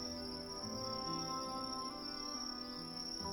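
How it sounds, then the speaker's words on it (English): Steady, dense cricket chirping fills a VRChat game scene as continuous ambience, a high shrill trill holding at an even level throughout with no voices. "I need to get rid of the crickets in my ears by going in and out of my door"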